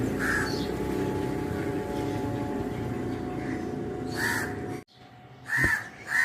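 A crow near its nest with chicks caws several times, short harsh calls over a steady low rumble, the last two louder and closer.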